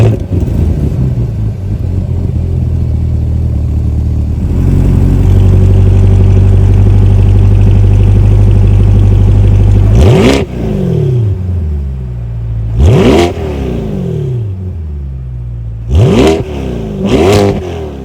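A 2024 Corvette 2LT with a 6.2 liter V8 and performance exhaust starts and idles with a deep loud rumble, then snaps through several sharp revs that rise and fall back, close and alone.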